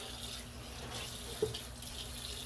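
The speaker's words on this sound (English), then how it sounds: "let me put that water on right quick and start boiling it" A kitchen tap runs water into a pot for boiling spaghetti, a faint, steady hiss of flowing water with one small clunk partway through.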